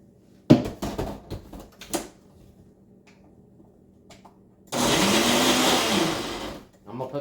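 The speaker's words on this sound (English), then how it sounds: "we'll put the lid on this, and then we're going to blend this up" Some clunks and knocks of a lid going on are followed by a loud blender whirring for under two seconds as sour cream is blended into avocado cream, then the motor stops abruptly.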